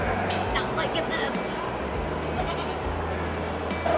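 A goat bleats in repeated loud, wavering cries close by, with a nasal tone that carries across the whole stretch while faint background chatter sits beneath.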